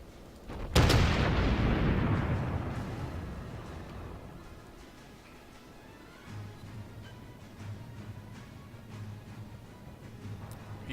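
Naval gunfire in World of Warships, a heavy cruiser battle: one loud, deep booming salvo erupts near the start and rolls off slowly, followed by a low rumbling engine-like drone and scattered distant impacts.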